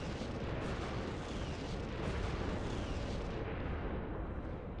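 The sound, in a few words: radiation bombs hitting planet surface in Sins of a Solar Empire video game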